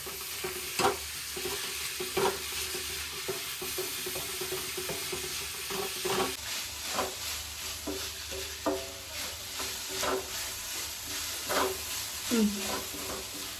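Chopped onions sizzle and fry in a pan for a home-cooked onion meat curry, with a spoon stirring at intervals, scraping and clinking close by under a steady crackle.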